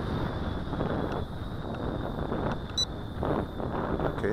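Strong gusting wind buffets the microphone outdoors during a flight test of a Tarantula Spider 1505 drone, a steady broadband roar with surges, a faint high whine running through it.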